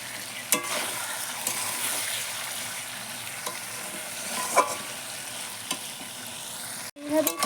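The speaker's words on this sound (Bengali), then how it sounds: "এইভাবেই কষাতে থাকবো 10 থেকে 15 মিনিট।" Chicken being stirred and sautéed in a pan, a steady sizzle broken by scraping strokes and occasional knocks of a spoon, ending in a brief cut and a louder clatter.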